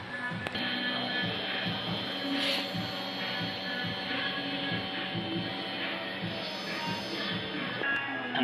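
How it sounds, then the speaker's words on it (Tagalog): An inkjet printer runs a nozzle check right after a head clean and wiper pass, giving a steady mechanical whir with faint repeated clicks and shuffling, continuous and fairly close. "Nozzle check."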